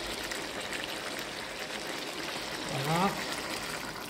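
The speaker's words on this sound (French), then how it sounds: "je vais rajouter 350 ml d'eau" Water poured into a pot of beef stew with tomatoes, onions and garlic, a brief liquid trickle rising near the end of a few seconds, with a voice briefly heard.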